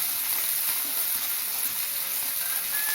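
Onions and garlic cooking in a pan with salt for a curry leaf and pepper garlic kuzhambu, giving a steady, close sizzling hiss that stays even from start to finish with no talking.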